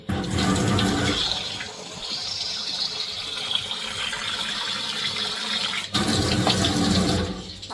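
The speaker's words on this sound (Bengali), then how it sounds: "তো এইদিকে চালটা ধুয়ে নিতেছি।" Rice being washed in water, with running and splashing water filling and sloshing close by, briefly louder at the start and again near the end.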